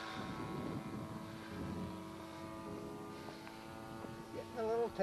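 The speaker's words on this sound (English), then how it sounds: "What a beautiful plane." A propeller airplane passes overhead in the evening, a distant, steady droning hum with faint harmonic tones that swells near the end.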